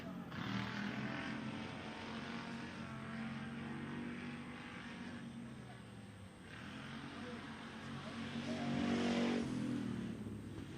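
Race cars run together around an oval track at the King of the Ring event, a steady layered engine drone from a moderate distance that swells near the end.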